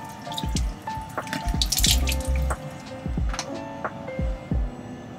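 Tap water runs into a sink during a morning face wash, with close splashing, dripping and the patter of water hitting the basin in irregular bursts.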